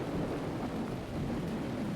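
Heavy thunderstorm with torrential rain: a dense, constant roar of downpour with low rumbling, steady and loud throughout.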